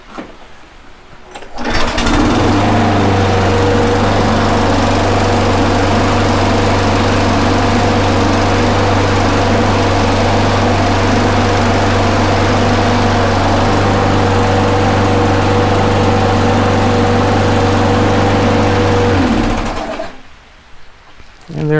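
A Husqvarna HU725FH lawn mower engine runs steadily after a carburetor replacement, a loud, even drone with a strong low hum starting and stopping abruptly, holding without surging for about eighteen seconds outdoors.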